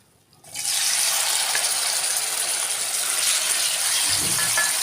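Pieces of liver hitting hot oil in a pan set off a loud, steady, close-up sizzle that bursts in after a brief quiet start and holds unbroken to the end.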